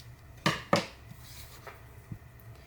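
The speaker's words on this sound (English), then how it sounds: "Cut off the corner." Scissors snip the corner off a paper scrap with two quick, crisp cuts close together, followed by faint handling rustles in a quiet room.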